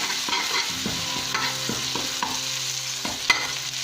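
Holy basil with banana blossom stir-frying in a hot pan, a steady loud sizzle with spatula scrapes and knocks repeating throughout, close up and with no voices.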